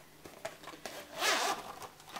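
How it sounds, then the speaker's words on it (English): A zipper on a cosmetic bag is pulled open in one smooth rasping run, close and clear, with a few faint rustles before it and no voices. "this zip is sort of across the bag, not straight. So when you open it, look how much space it is in it."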